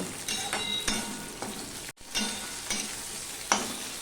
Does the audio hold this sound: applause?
no